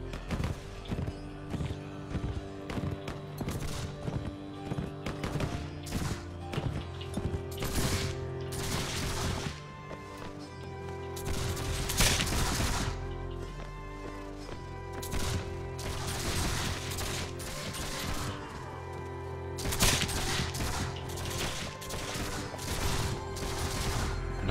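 Gunfire in the Mount & Blade With Fire & Sword video game, with repeated musket volleys and crackling bursts over a dense battle din and music, loudest around the middle and near the end.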